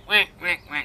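A voice imitates a duck, giving three quick nasal quacks in a steady rhythm, close and fairly loud, during a children's farm-animal story about a duck on a tractor.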